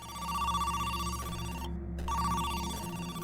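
A telephone rings in the video game Who's Lila, a steady electronic bell tone sounding continuously with one brief break partway through, clear and alone.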